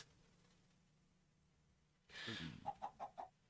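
A chicken clucking in the video game Minecraft, a burst of fowl squawking followed by four short rhythmic clucks, close and clear over quiet background hum.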